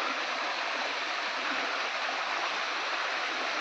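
A waterfall in a mountain forest roars with constant, dense rushing water, even and unbroken, with no voices over it.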